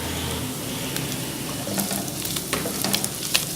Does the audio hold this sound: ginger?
yes